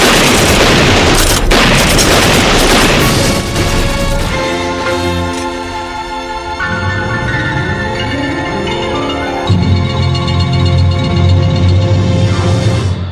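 Gunfire effect in a Filipino radio drama, heavy booming shots in the opening seconds, then music with sustained tones taking over.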